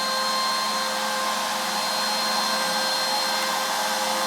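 A CNC router cuts detail into a walnut board roughly 12 inches wide and an inch thick with a small ball nose bit, giving a steady, loud, unbroken high whine from start to finish.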